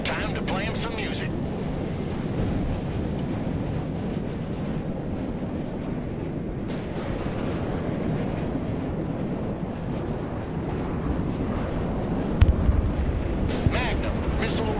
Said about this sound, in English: Magnum, missile away. Radar destruction confirmed.